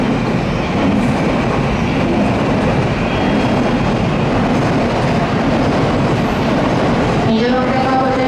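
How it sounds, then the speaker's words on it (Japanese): A Shinkansen bullet train pulls into a station platform with a loud continuous rumble and roar of wheels, a rising squeal near the end, and platform announcements heard faintly beneath it. "新幹線到着です。"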